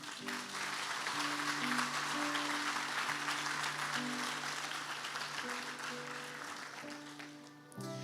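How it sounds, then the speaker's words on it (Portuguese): A church congregation applauds at an Easter service, a dense steady wash of clapping that fills the space throughout, with sustained music tones underneath and fading slightly near the end. "Você pode aplaudir o Senhor?"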